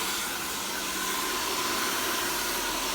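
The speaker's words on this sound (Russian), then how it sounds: "Смотрите, фен параллельно." A hair dryer blows with a steady, broad airy whoosh during a layered cascade haircut on medium-length thick hair, continuous and fairly close with no one talking.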